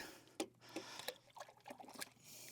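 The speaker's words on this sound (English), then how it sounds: "Got to let that run for a moment to give me some water to pan in." Water runs and trickles to fill a pan for gold panning on a desert mining claim, a soft uneven splashing and dribbling at close range with a few brief clunks, quiet and without talk.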